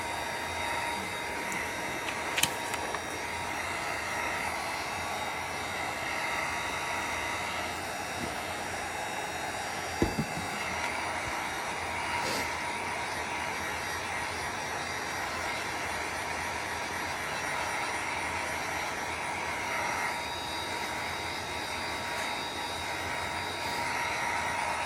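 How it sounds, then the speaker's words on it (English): A heat gun blows hot air steadily over a Valentine's Day tiered-tray craft piece, a constant broadband whoosh lasting the whole stretch, with two brief clicks or taps breaking through. "This is called a heat gun."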